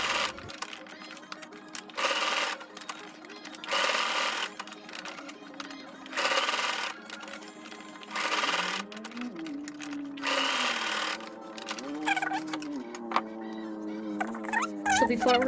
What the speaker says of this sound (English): Zigzag stitching, back forth until you feel like your elastic is steady.